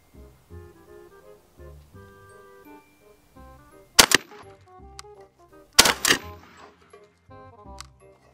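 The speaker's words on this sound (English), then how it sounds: "We will be shooting a slug." Two sharp, loud shotgun slug blasts hit a bulletproof vest, spaced about two seconds apart, each with a brief crackling tail, over a quiet background.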